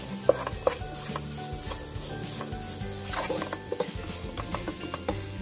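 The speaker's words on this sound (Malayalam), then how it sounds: "ഇനി നേരത്തെ റെഡിയാക്കി വെച്ച ചിക്കൻ ഇതിലോട്ട് ഇട്ട് കൊടുക്കാം വീണ്ടും നല്ലതുപോലെ ഒന്ന് മിക്സ് ചെയ്ത് കൊടുക്കണം" Chicken stirred into masala in a pan, a close, continuous sizzle with spoon scrapes and occasional clacks against the metal, with no voices.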